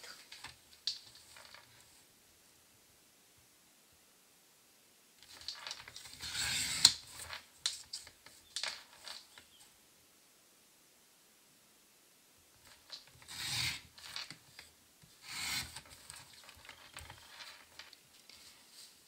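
Floral paper being cut into three strips for a spring greeting card, with bursts of crisp snipping and rustling paper separated by quiet pauses.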